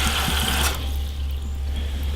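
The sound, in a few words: water poured to soften animal feed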